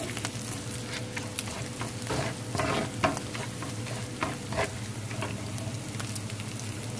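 Butter and dried coriander fry in a pan with a soft, steady sizzle, broken by scattered scrapes and clinks of stirring, and no one speaks.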